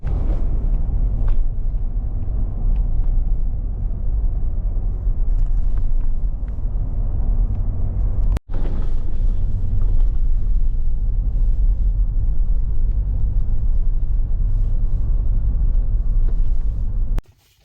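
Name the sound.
car driving on a road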